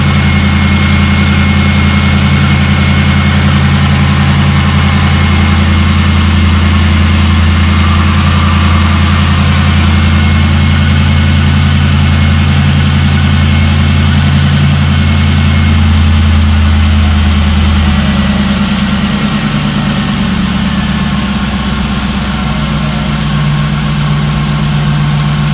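A Lincoln Town Car engine runs at a steady idle, a loud continuous low rumble with even vibration close by, holding constant before a slight shift in tone near the end, with no voices.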